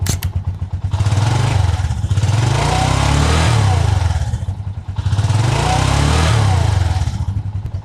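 Motorcycle engine running steadily while a tachometer (RPM gauge) is tested, a loud, close droning idle that swells twice and rises in revs, with a brief dip between the runs.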